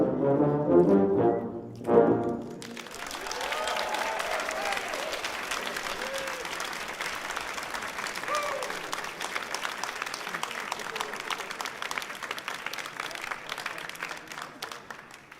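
Sustained audience applause at a TubaChristmas concert on the Millennium Stage, beginning after a short final brass note and holding steady, dense and full for the rest of the clip.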